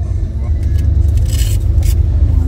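A Sempati Star bus on the road toward Medan, heard as a steady low engine rumble and road noise, with brief hissing swells, from inside the cabin.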